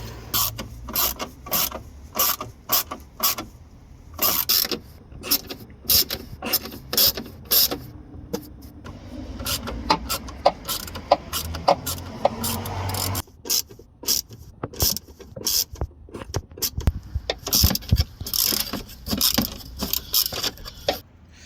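Small screws are worked loose from the headlight cover of a BMW E92 with an N43 engine, giving dense close ratcheting clicks, metallic rattles and scraping taps in irregular bursts, with no talk.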